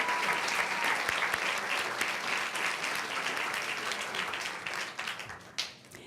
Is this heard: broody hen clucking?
no